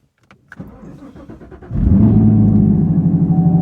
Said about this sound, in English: But we'll give you guys a cold start.